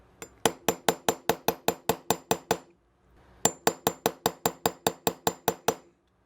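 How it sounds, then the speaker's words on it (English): Steady metallic tapping of a brass hammer on a pin punch, fitting a CZ 75 pistol trigger spring, about a dozen evenly spaced strikes, a short pause, then another even run of taps, close and crisp. "I'm just going to take the punch and tap it flush."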